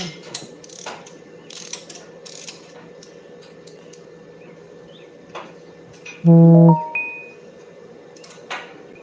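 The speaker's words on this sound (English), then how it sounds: "Let me try to get these other bolts out of this head." A ratchet wrench turns out cylinder head bolts on a 402 engine in a 1964 C10, giving one short burst of loud, rapid clicking near the mic. Quiet shop noise and scattered small clanks fill the rest.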